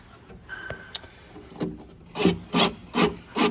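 Power driver screwing drawer glides into a wooden nightstand: a few faint taps, then four loud, evenly spaced bursts of whirring, grinding drive, each about a third of a second, close up.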